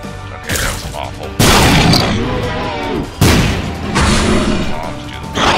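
Bombs explode in a video game, with several loud, booming blasts at uneven intervals, each followed by a rumbling decay.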